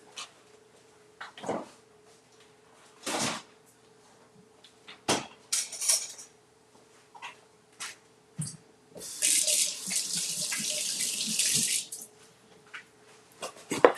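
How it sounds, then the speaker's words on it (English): Tap water runs into a sink as hands are washed, with intermittent splashes and clinks early on, then a steady, louder stream of running water near the end. "Let's put these up and wash our hands."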